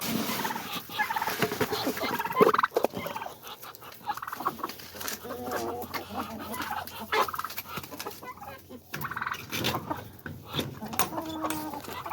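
Repeated turkey gobbles mixed with clucking chickens, including Jersey Giants and roosters, close by and fairly loud, with occasional talking among the birds.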